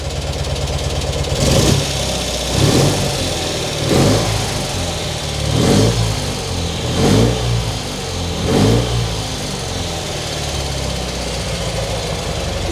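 A 1975 BMW R60/6 motorcycle engine idles with a steady low chug, revved in several short bursts that rise and fall, close and loud, no voices.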